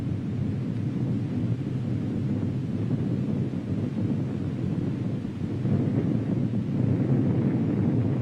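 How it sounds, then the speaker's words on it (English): A 1966 Chinese thermonuclear bomb test explosion produces a continuous deep, heavy rumble with no clear peaks, sustained and loud like distant thunder or wind, with no talking. "Our nation's first nuclear bomb containing thermal materials explodes"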